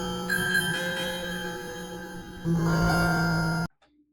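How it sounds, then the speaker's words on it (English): A dense, droning wash of a recording time-stretched to half speed, pitch-lowered with smeared tones, swelling louder near the end before cutting off abruptly. "time stretching it to half speed, we had something that sounds like this"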